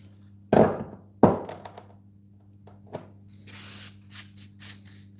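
WD-40 aerosol can spraying in short hissing bursts: two sharp blasts near the start, then a longer, uneven spray toward the end over a low steady hum.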